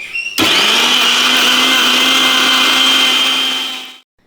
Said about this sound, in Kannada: ಇದನ್ನು ಒಂದು ಮಿಕ್ಸಿ ಜಾರ್ಗೆ ಹಾಕ್ಕೊಳ್ಳೋಣ